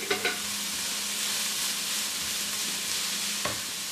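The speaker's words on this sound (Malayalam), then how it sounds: "സവാളയും നന്നായിട്ട് ഗോൾഡൻ നിറം വരെ വഴറ്റിയെടുക്കണം" Sliced onions with salt saute in a pan for a chicken masala dosa filling, a steady soft sizzle with a few scraping stirs of a spoon near the start and end.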